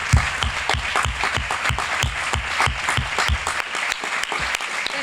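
A seated audience at a historical memory round-table claps for Antonia, an even rhythm of crisp individual claps that holds steady, then thins and slows near the end.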